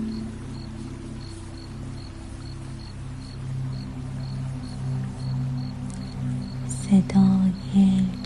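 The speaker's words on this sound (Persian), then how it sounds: "صدای جیرجیرک ها" Crickets chirp in a forest at night, a steady, evenly spaced train of high trills over a soft low hum, with a brief louder rustle near the end.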